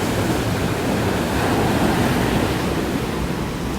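Steady wind blowing outdoors on a drone flight day, a loud, constant broadband roar that rushes against the microphone without a break and with no voices.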